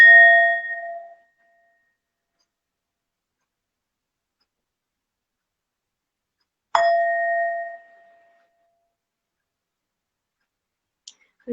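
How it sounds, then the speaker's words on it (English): Singing bowl struck twice, each strike a clear ringing tone that rings out and fades over about a second, separated by long silence, ending with a faint tap. "Focus on the sound of the singing bell."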